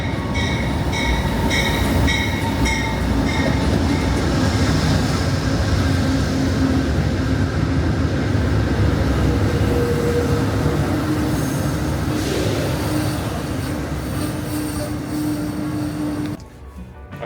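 An Amtrak train rumbles steadily past at close range, its loud continuous roar and rattle filling the whole stretch before cutting off abruptly at the end.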